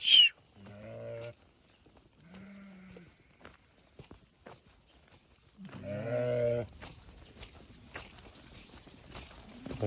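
Several sheep and lambs bleat nearby in short bursts, separated by quiet gaps with faint shuffling and rustling.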